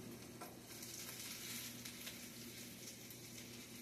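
Bacon fries in a pan, giving off a soft, steady crackling sizzle with no talking.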